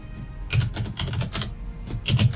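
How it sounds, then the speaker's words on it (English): Rapid clicky mechanical computer keyboard typing close to the microphone, a steady flurry of sharp key clacks in uneven bursts with no voices. "Sorry if you hear mad typing, I have a nice clicky clack keyboard right behind the microphone"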